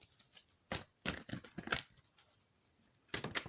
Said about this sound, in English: I'm going to do some tarot really quick. So let me shuffle.